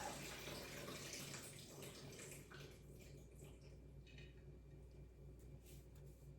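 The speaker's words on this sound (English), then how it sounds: "So I'm going to pour the water off" Water pouring and splashing into a sink for a few seconds as soaking water is poured off saltfish, then tapering off to quiet trickles and drips.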